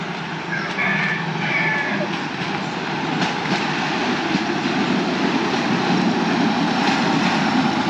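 A bamboo train rolls along rails among rice fields in Battambang, Cambodia, a steady loud rumble with rattling clatter running throughout, with some faint voices in the mix.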